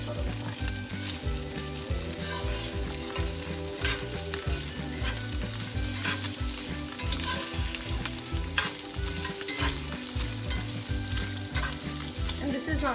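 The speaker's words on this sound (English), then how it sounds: "And you're adding ghee, and it smells really good" Ingredients fry in ghee in a pan for paneer tikka masala, with a constant close sizzle and busy rhythmic stirring and scraping strokes running throughout, loud and uninterrupted by talk.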